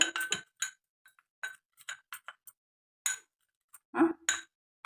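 A spoon clinks in short, irregular taps against a bowl while tulsi powder and rose powder are mixed, close and sharp against near silence, with a louder clatter near the end.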